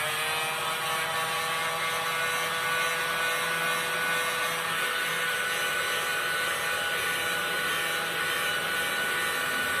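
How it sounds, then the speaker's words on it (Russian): A hair dryer blows steadily with a constant whirring rush of air, close and loud, with no talking throughout. "Берем фен и нагреваем"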